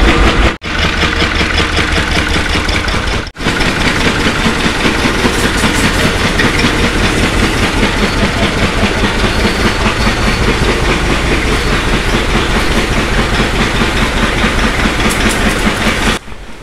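An engine-driven water pump used for washing cows runs loudly and continuously up close, a dense steady mechanical drone and clatter, cut by two brief dropouts early on.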